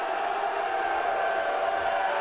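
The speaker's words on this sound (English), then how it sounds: "this crowd is rocking." Crowd at a Legends Football League game between Baltimore and Omaha, a steady roar of cheering fans spread across the stands, dense and continuous with no breaks.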